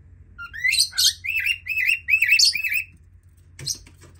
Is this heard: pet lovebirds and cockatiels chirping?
yes